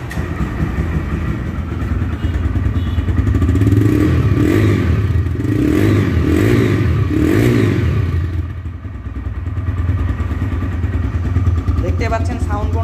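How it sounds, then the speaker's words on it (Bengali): A TVS Raider motorcycle runs with its silencer exhaust, a loud close engine drone that pulses and revs steadily for several seconds, dips briefly, then carries on with some clatter. "বাইকের সাউন্ড কেমন রয়েছে এবার আমি সেটা দেখাবো আপনাদেরকে"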